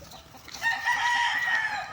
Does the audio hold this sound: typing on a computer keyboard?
no